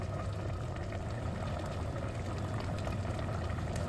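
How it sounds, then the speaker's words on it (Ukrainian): A pot of mackerel bubbling at a steady boil, a continuous dense gurgle of water close by with no other sounds. "Бачите, вона почала гарненько кипіти."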